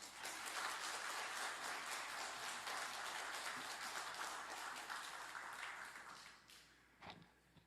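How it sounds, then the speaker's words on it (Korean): A church congregation at a Sunday afternoon service applauding their pastor, a sustained, moderately distant burst of many hands clapping that fades out near the end. "오늘 말씀 전해주신 우리 목사님 다시 한 번 더 박수로 격려하도록 하겠습니다"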